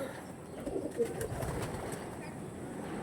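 A pigeon coos softly a few times against a low, steady background murmur.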